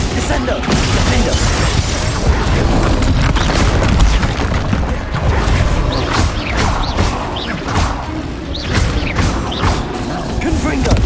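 Spell impacts and explosions in Hogwarts Legacy combat, a continuous barrage of heavy booms, crashes and thuds at close range, repeating without pause.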